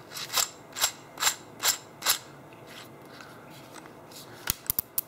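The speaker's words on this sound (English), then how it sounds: "it's got a couple clicks and detents" The chuck of a Dewalt DCD708 cordless drill gives five crisp, evenly paced detent clicks up close, then a quick cluster of sharper ratcheting clicks at the end.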